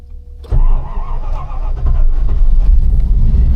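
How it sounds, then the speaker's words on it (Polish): A Cadillac car engine cranks and catches after a short quiet moment, then settles into a loud, steady idle rumble close by. "Mam nadzieję, że Cadillac odpali tutaj bez problemu."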